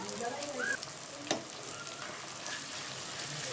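Onion and ginger paste sizzles steadily in a pan for a fish curry, a continuous close hiss with a brief scrape of stirring partway through.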